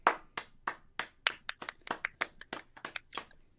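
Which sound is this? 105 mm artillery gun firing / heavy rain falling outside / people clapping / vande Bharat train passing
people clapping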